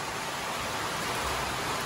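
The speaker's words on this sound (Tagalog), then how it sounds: "Binabayo ng ulan ang langit oh." Heavy rain pours down outside, a dense, steady hiss of drops striking surfaces that runs without break at moderate level, with no voices.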